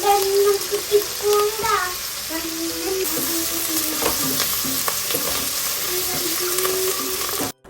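Sliced onions and garlic fry in a pan with a close, steady sizzle and repeated stirring scrapes. A voice is briefly heard near the start.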